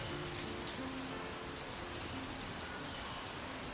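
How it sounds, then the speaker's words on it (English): Steady rain falls continuously, a dense even hiss of drops with no pauses, heard from nearby at a soft level. "it's raining."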